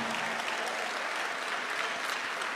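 A church congregation applauding during a sermon, dense continuous clapping from many hands that stays steady and fairly close throughout, with no voices.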